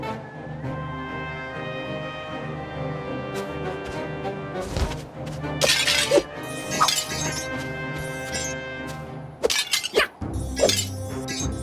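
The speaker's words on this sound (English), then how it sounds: "You really smashed that object!" Objects shatter and crash with glassy clinks in the Hotel Transylvania Scary-Tale Adventures video game, a few sharp breaking bursts over steady game music and effects.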